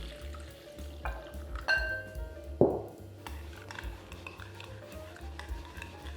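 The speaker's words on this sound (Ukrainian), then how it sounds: "Хорошенько все перемішала" A utensil scrapes and clinks against a bowl in short irregular strokes, stirring yeast, sugar and milk at close range, with a few louder knocks.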